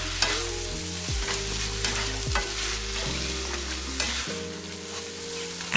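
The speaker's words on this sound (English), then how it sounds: "After adding the shrimp paste, or the substitute outlined earlier in this video, saute for 30 seconds" Shrimp paste sautéing in a pan for Pinakbet, a steady close sizzle with occasional stirring scrapes, while low background tones shift underneath.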